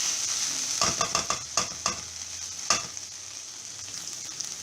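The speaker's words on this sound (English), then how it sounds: "It's now been about 6 minutes since I have been frying this okra." Okra sizzles steadily in a hot pan while a utensil scrapes and stirs it in a few quick bursts.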